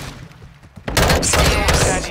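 Pistol fire in Call of Duty MW2 arrives as a loud burst of close, rapid shots starting about a second in and continuing to the end, after a quieter stretch with faint game sounds.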